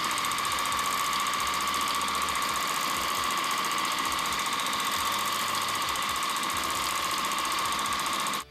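A longarm quilting machine runs on a Grace Company Start-Right frame with a steady, loud mechanical hum and rapid stitching buzz, holding constant before cutting off abruptly at the end.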